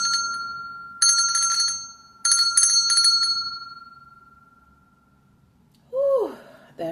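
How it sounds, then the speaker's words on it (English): A small hand bell rings in two short bursts of bright, shimmering strikes, each leaving a long fading tone, followed by a brief vocal sound at the end. "let me ring my bell for a smile."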